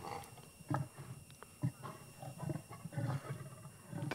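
Leopards in the wild fighting over a kill, a father and younger male, giving low rough growls and short hissing snarls in irregular bursts at moderate distance, fairly faint against background hiss.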